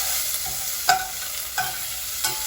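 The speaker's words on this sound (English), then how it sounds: "And we're just going to saute that until lightly brown" A chopped green chili pepper sautéing in a pan, with a soft continuous sizzle broken by three brief scraping stirs of a utensil against the pan.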